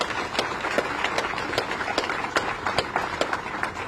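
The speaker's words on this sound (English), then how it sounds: "So please give a round of applause for them." Scattered, moderately faint clapping from a crowd gathered outdoors at a groundbreaking ceremony for the West Side Market transformation, with individual claps distinct over light background noise.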